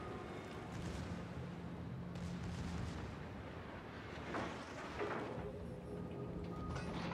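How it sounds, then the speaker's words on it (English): Battleship main guns in the naval game World of Warships fire a salvo, with deep booming blasts rolling over a steady background rumble, a couple of sharper reports standing out near the middle. "Try and get that salvo out."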